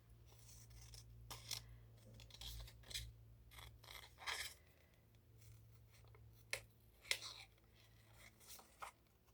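Scissors cut through paper envelopes and labels close up, with a run of quiet snips and rustling paper sounds at uneven intervals over a low steady hum.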